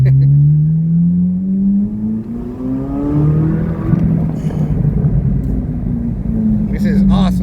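A 2023 Chevrolet Corvette Z06 engine revs up with a rising pitch, then drops as it downshifts and climbs again, loud and close from inside the car, with an excited voice heard over it.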